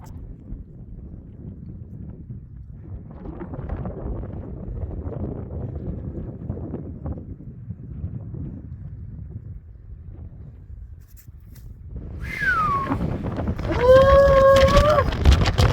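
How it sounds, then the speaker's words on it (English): Steady low wind rumble buffeting the microphone on the cold summit of Caoinkeen mountain in Ireland, with voices shouting and cheering toward the end. "It's windy and cold."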